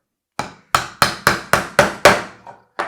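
A hammer drives nails into the wood of a DIY birdhouse, eight sharp close strikes in a quick, slightly uneven rhythm, each ringing briefly before the next blow, with no talking.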